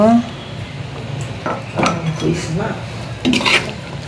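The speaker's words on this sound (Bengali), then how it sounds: "এই যে আমি বাটির মধ্যে বেড়ে নিচ্ছি।" Chotpoti being served into a bowl, with close clinks and scrapes of a utensil against dishes in a kitchen, a few irregular knocks over faint background noise.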